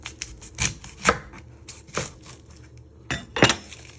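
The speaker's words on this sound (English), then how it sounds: "You're first going to chop your end off." Kitchen knife chopping the end off an onion on a board, four or five sharp, close chops with short quiet gaps between them.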